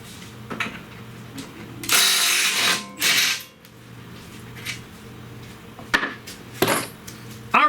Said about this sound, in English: Remove both of the bolts.